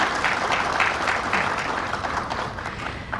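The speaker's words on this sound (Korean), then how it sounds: "박수 부탁드립니다" A brief, even burst of audience clapping greets a guest being introduced at a Korean ESG forum, holding steady over its few seconds.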